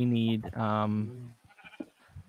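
Sheep bleating in Minecraft, a long wavering bleat near the start followed by a second drawn-out bleat, with speech breaking in over and after the calls.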